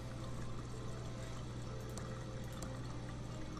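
Faucet running water in the point-and-click game Thimbleweed Park: a steady, dense rushing pour with a low constant hum beneath, unbroken and fairly loud throughout.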